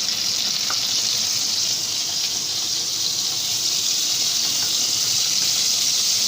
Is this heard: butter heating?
yes